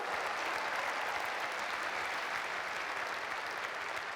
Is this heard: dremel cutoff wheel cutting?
no